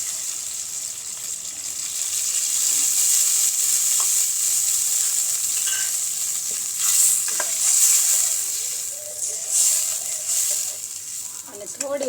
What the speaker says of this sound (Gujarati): તો આપણે અડધો ગ્લાસ જેટલી છાશ ઉમેરશું